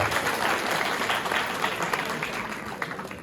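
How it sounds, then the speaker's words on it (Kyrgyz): Applause from an audience at a Kyrgyz-Turkish girls' lyceum event, a sustained wash of many hands clapping evenly, loud and continuous throughout. "Суй кайгы биздин сулуу кыздарга бир дүңгүрөгөн кол чабуулар болсунчу я"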